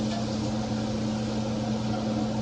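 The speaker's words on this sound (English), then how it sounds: "Turn on the exhaust fan." A kitchen exhaust fan runs in a steady, loud, unbroken drone with a low, even hum and broad airy rush. No talk is heard.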